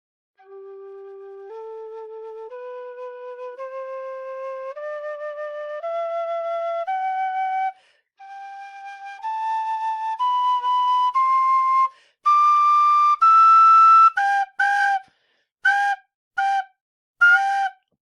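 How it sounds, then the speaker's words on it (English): A wooden tin whistle climbs a scale of clear, pure sustained notes one after another, then plays a few short detached notes near the end, solo and fairly loud. "I'll go over to the wooden whistle."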